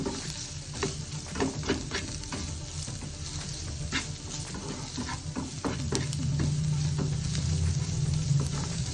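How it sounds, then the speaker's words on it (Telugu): Chilli powder stirred through an egg fry in a pan makes a constant close sizzle with frequent spatula scrapes, and the frying grows slightly louder toward the end. "ఇటు నుంచి అటు మొత్తం కలిపేసుకోవాలి"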